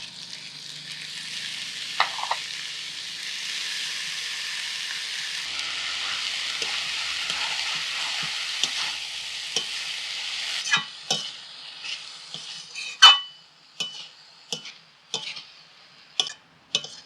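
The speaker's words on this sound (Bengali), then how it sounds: "এবার দিয়ে দিচ্ছি কাঁঠালের ভুতা" Jackfruit pulp frying in a pan with shrimp makes a steady hiss that fades out, followed by sharp, irregular scrapes and taps as a spatula stirs the mixture.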